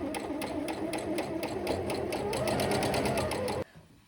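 A sewing machine stitches fabric along a washi-tape edge while sewing a skirt, a fast even mechanical whir with rapid needle ticks, close and steady, then stopping abruptly near the end.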